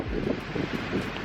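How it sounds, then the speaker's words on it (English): Strong wind buffets the microphone at a seafront in Brighton, a steady low roar with gusty swells throughout and no voice. "I don't think you can hear anything that I'm saying because of the wind"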